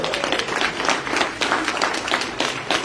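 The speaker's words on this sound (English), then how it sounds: "Would you guys give Andrew a big round of applause?" A roomful of people at a real estate investors' talk gives sustained applause, a steady wash of many claps at moderate loudness without speech over it.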